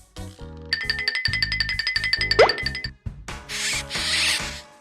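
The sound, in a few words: mouse squeaking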